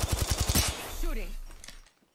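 Bursts of rapid automatic gunfire from the video game Apex Legends, a fast rattling string of shots followed by a short whooshing effect that fades out.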